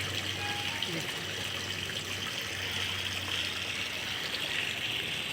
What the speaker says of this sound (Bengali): তো আমার জলটা ভরা হয়ে গেছে মনে হয়